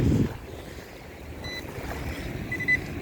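Ship passing offshore while waves pick up at a fishing beach, a low steady rumble of surf and wind with a brief louder burst at the start and faint tonal traces later.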